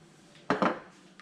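A spoon stirs sour cream garlic sauce in a bowl with two quick, close scraping clinks, then a faint tap, in a quiet kitchen.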